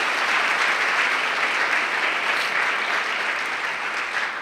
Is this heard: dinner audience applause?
yes